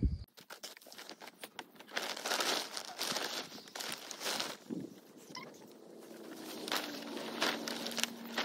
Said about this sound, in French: De retour à la botte de foin, donc comme ce matin, je mets 2 kilos et on va le faire tremper.